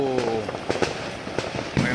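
Firecrackers bursting at midnight during Chinese New Year celebrations in a residential park in Johor Bahru, Malaysia, with sharp irregular cracks and pops, some near and loud, over a crowd murmur and talking nearby.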